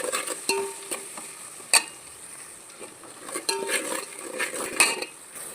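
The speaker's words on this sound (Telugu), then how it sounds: "పసుపు సాల్ట్ వేసుకొని వేయించుకోవాలి" Frying with turmeric and salt in a pan, a spoon scraping and clinking against the metal in irregular strokes over a soft sizzle, close by with no voices.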